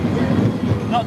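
A large roller coaster train leaves its station and starts up the lift hill, giving a steady low rumble with faint rattling and clatter, continuous and fairly close throughout.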